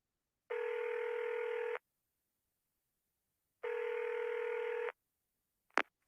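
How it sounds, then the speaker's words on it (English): Two long steady telephone keypad tones, each lasting over a second and separated by silence, followed by a very short click-like beep near the end. "Let's listen to some people and try to identify the phone number."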